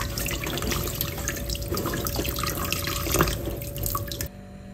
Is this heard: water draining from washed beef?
yes